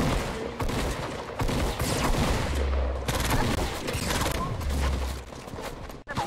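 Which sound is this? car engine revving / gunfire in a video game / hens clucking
gunfire in a video game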